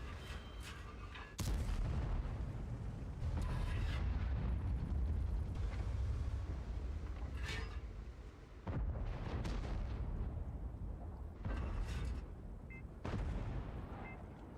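Artillery shells fire repeatedly in the World of Tanks video game, with several loud deep booms spaced a few seconds apart over a steady rumbling battle background, close and heavy.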